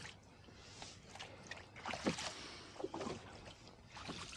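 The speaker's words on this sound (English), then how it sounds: "we are rowing on the Dry Creek arm of Lake Sonoma" Rowing a boat on the Dry Creek arm of Lake Sonoma in a steady east wind: soft, rhythmic oar strokes dipping and sloshing through the water, faint and close, with light wind noise.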